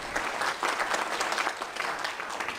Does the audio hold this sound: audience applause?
yes